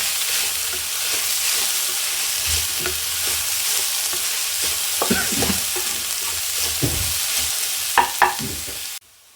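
Shredded cabbage and peas stir-fried for fried rice: a loud, steady sizzle with occasional scraping and tossing of the spatula, no voices, and an abrupt cut at the end.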